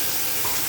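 Spinach and coriander leaves sizzle loudly in a hot pan while being stirred, a dense, continuous frying hiss close up with no voices.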